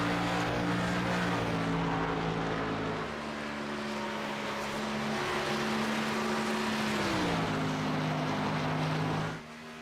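A race car in a racing video game at Homestead climbs through the gears, its steady loud engine drone dropping in pitch at each upshift, two clear shifts heard before the sound cuts off abruptly.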